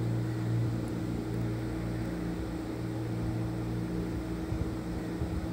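Mixer grinder grinding lentils, green chillies and garlic for dosa batter, a steady loud motor whir with a strong low hum running unbroken throughout, no talk.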